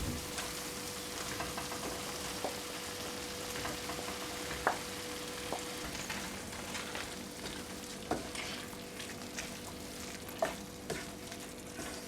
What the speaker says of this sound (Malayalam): ഇനി നമ്മൾ എടുത്തു വെച്ചിരിക്കുന്ന വെജിറ്റബിൾസ് ഇതിലേക്ക് മിക്സ് ചെയ്യാം